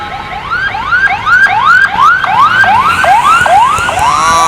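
Loud, close ambulance siren wailing in rapid repeated rising sweeps, several cycles in a row with no voices.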